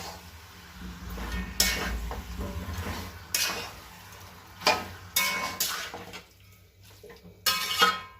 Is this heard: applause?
no